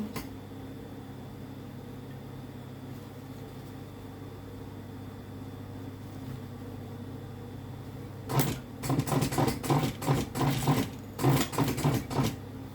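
A domestic sewing machine stitches over a thick seam on Levi's jeans being shortened, quiet hum at first, then bursts of rapid loud stitching in short runs over the last few seconds.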